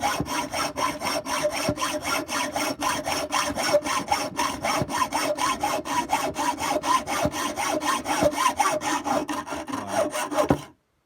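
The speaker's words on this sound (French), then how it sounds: "je travaille bien sur la longueur de la scie" A hand saw cuts through a screw, rasping back and forth in steady, even strokes, close and loud, about two strokes per second, ending abruptly.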